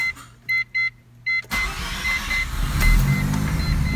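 A Mazda RX-7 FD rotary engine cranks in short bursts, then catches at about one and a half seconds and settles into a loud, steady idle that rises slightly toward the end, heard up close.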